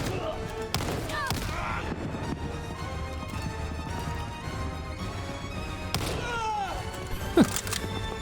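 Rapid bursts of gunfire in a first-person shooter campaign, Call of Duty: Vanguard, loud and continuous with sharp impacts and booms over a steady game soundscape.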